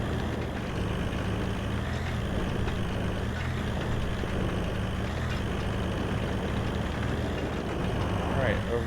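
Heavy, continuous engine rumble from a 6x6 military truck in a driving game, steady and close, with someone talking over it.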